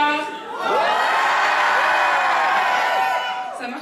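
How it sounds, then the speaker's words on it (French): A theatre crowd of over 500 at an evening show shouts and cheers in one loud, sustained roar with whoops on cue, then fades out. "Quand je dis bonsoir, je veux vous entendre crier."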